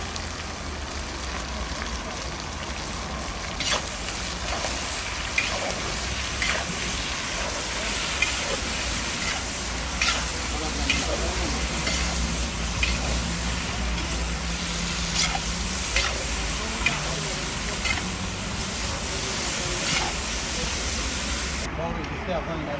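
Carrots fry with salt in a pot of Uzbek chaikhana-style pilaf, giving a steady close sizzle throughout, with scattered scrapes and knocks as they are stirred.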